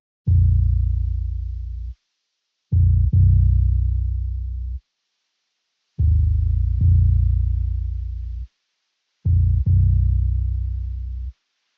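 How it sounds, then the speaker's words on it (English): A deep bass one-shot from a bass one-shot kit plays a simple three-note pattern in a music sample. The phrase repeats four times with short gaps between, each note booming and sustained, loud and alone. "the first element that I added in this sample was this bass one-shot"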